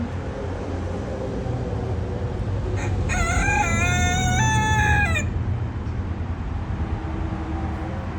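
A free-range rooster crows once up close, a clear, rising and falling cock-a-doodle-doo lasting a couple of seconds, set against a steady outdoor background hum.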